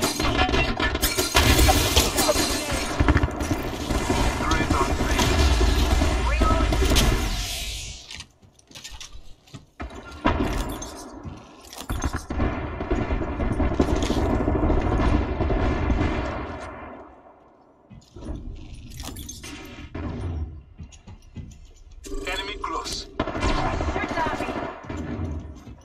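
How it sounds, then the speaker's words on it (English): Gunfire in a game of Apex Legends, dense sustained bursts of shooting and impacts with brief gaps, loud and close under game audio and occasional voices. "They're shooting"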